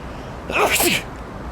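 A single sudden human sneeze, close and sharp, rising and breaking off in under a second against a quiet background.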